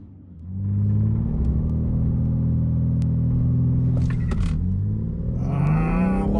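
A BMW G80 M3 Competition launches on launch control, its engine jumping to a loud sustained roar and holding high revs, then pitching up again as it accelerates hard.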